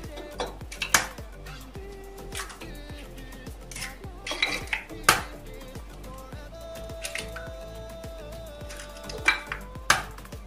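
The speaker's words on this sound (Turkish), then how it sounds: "5 yumurtamızı şöyle kıralım." Five eggs are cracked one after another against a bowl for a trileçe batter, giving sharp clinking knocks spaced a few seconds apart, with quieter dish and utensil sounds between them.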